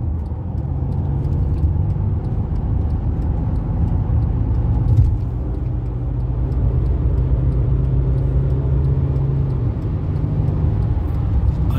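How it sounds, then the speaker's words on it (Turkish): Mercedes E350 CDI 4Matic car under full-throttle acceleration, heard from inside as a steady, low diesel rumble and road drone with a slight swell midway, no talk. "Dip gaz testi yapalım."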